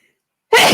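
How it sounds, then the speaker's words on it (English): A single loud, close sneeze bursts out after half a second of silence and fills the rest of the short moment. "I'm going to sneeze."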